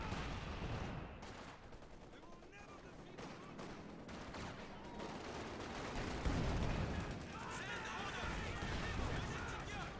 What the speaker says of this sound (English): MG34 isn't suppressing fast enough for Hans.